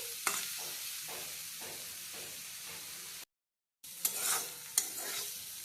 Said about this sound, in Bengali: ভালোভাবে নেড়ে চেড়ে লাউয়ের খোসা আলু ভেজে নেওয়া হচ্ছে